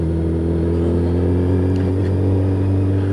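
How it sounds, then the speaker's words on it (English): A Suzuki GSX 1300R Hayabusa motorcycle engine held at high revs while touring, a steady loud droning hum with strong, even tones and a constant rumbling undertone, alone without voices. "Trying to keep my revs up a bit."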